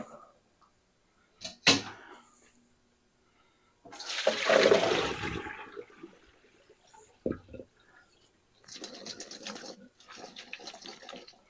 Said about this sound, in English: let me get the colander and drain those off